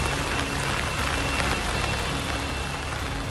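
Heavy rain pours down in Gurugram amid flooded streets and half-submerged cars, a loud, dense and steady hiss of downpour with no talking.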